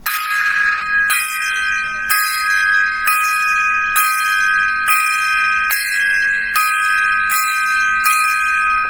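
A gong is struck about ten times in a slow, even salute, roughly one ringing hit per second, each bright strike overlapping the lingering shimmer of the last.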